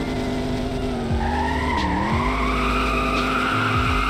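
Tires squeal and skid as a 1000hp Hellcat pulls a U-turn in a Roblox roleplay game, a long rising screech over a steady engine drone, loud and continuous with no talking.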